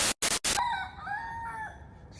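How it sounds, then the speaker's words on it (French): A rooster crows loud and near, one long wavering cock-a-doodle-doo under an Airbnb in Malta, preceded by a few sharp blasts of wind or handling noise on the microphone. "En gros, en dessous de notre Airbnb, il y a des coqs et des poules."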